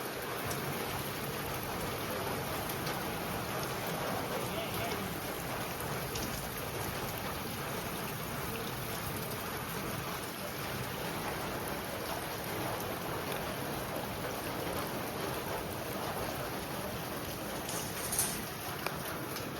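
Heavy monsoon rain seen from a home balcony, a dense continuous roar of rainfall at steady loudness with no talking, one faint brief sharper sound near the end.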